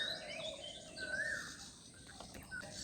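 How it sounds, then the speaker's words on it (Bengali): Several birds chirp and whistle in short bright calls through a quiet village morning, with a faint insect buzz underneath and no talk. "পাখির ডাকটা কি সুন্দর লাগছে শুনতে"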